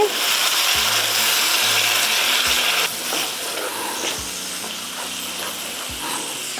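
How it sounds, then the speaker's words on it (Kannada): Chili paste thinned with water sizzles and bubbles in a pan with a steady hiss. A faint low hum and periodic clicks run underneath, and the sizzle softens slightly partway through. "ಫ್ರೈ ಮಾಡಿ"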